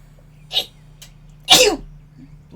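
A character sneezes in the adventure game Fate of Atlantis: a short, sharp sneeze-like burst, then a second, louder full sneeze about a second later, heard close and clear against near silence.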